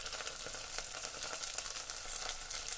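Vegetables (cauliflower, carrot and others) sizzle steadily in hot oil in a frying pan for mix veg biryani, a dense, continuous crackling hiss with small spatters, no talking.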